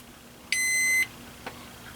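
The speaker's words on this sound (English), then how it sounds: "Now it's charging up. You hear the beep." A Qi wireless charger under a Google Nexus 6 phone gives one short, clear electronic beep of about half a second as charging begins, followed by a faint click.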